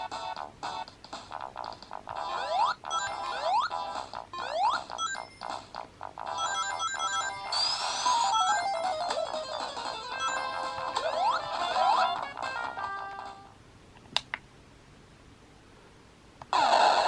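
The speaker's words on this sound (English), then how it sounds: "there's a lot of break-up in the sound in the 2600 games" Atari 2600 chiptune-style game music on a Kinhank K36 retro handheld, with beeps and sweeping tones that stutters and breaks up, then drops out near the end before resuming briefly.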